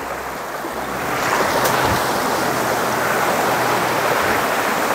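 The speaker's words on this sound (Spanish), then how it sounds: "Es un riachuelo de montaña. Y pues está bastante, bastante crecido." Swollen mountain stream in Tejutepeque, Cabañas, El Salvador, running high after rains: a steady, loud broadband rush of water, close by and unbroken, with no voices.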